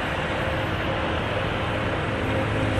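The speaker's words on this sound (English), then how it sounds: "It's a maintenance car." A railway maintenance car passes close by an RV park in Golden, British Columbia, a loud, steady rumble and roar that holds without a break.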